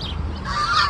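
Geese at a dairy farm honk in a brief, close, nasal call that rises into a loud blaring note, heard alone with no talk.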